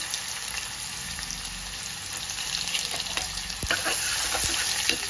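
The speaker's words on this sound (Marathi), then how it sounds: "व्यवस्थित परतून घ्यायचा कांदा वगैरे" Onion sautéing in a pan with asafoetida and bay leaf gives a steady, close sizzle with faint clicks of stirring throughout, growing slightly louder toward the end.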